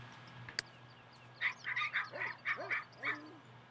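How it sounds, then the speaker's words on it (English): Dogs in The Sims 3 Showtime bark in a quick run of about eight yaps, moderately close and alone after a sharp click. "So many dogs barking."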